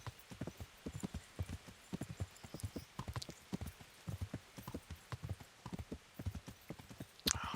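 Horse hooves clip-clop in the video game Kingdom Come: Deliverance, a steady trotting rhythm of many soft, fairly close hoofbeats, with a brief whinny-like burst at the very end.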